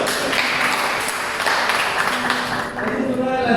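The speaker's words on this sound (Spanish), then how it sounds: "Ok, un nuevo aplauso." Group applause at an outdoor camp activity, a steady burst of clapping from many hands at close range, with voices mixed in.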